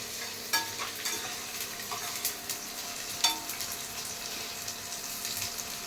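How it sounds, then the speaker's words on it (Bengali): Mixed vegetables for a vegetarian chow mein shallow frying in a pan give a steady close sizzle, with several sharp stirring scrapes and clicks scattered through it and no talking. "শ্যালো ফ্রাই করে সবজিগুলোকে ভেজে নেওয়া হচ্ছে।"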